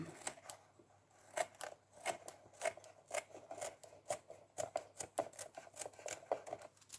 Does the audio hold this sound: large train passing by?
no